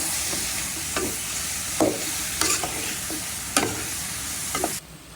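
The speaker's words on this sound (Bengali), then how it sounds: "এই যে বেগুনটা দিয়ে দিলাম, একসাথে কষে নেব।" Eggplant cooks in hot oil with dried mola fish, giving a soft continuous sizzle broken by several sharp scrapes and clacks of a spatula stirring the pan at irregular intervals, with no voices.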